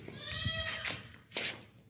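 A tall, long-eared dairy goat bleats twice, close by, each call a wavering nasal cry separated by a short pause, with faint background noise.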